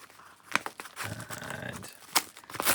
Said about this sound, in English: this package, which is all bubble wrapped up. Let's get it out of there.